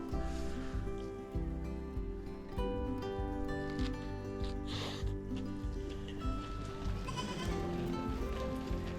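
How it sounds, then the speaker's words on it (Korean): A herd of goats in the Himalayan mountains near Manang on the Annapurna Circuit bleats repeatedly over steady background noise, while a young goat trails behind the group. "염소때가 에이, 아기 염소가 마지막에 쫓아가네요."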